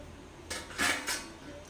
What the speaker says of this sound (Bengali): ঢাকনা খুলে দেখে নি কেমন হয়েছে